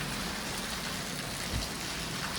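Quiet, even heavy rainfall over farmland in Gujarat heard from a distance, a soft continuous hiss with no distinct drops standing out.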